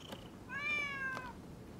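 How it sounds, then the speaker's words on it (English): A stray cat in the video game Rise of the Ronin gives a single clear, drawn-out meow, fairly near and alone over a faint background hum. "Who'd have thought a stray cat would wander in?"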